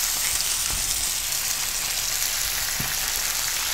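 Pork belly pieces sizzling in a pan for Korean barbecue, a close, even crackling hiss like light rain, steady throughout with no talk.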